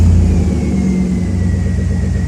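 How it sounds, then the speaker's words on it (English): A 2004 Chevrolet Tahoe engine runs right after starting, a loud, close, steady low rumble that settles into an even idle throughout. "So I'm going to start the vehicle."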